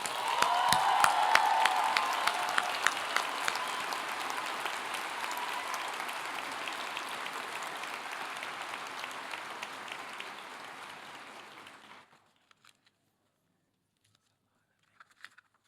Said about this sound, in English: Please join me in giving the residents a round of applause.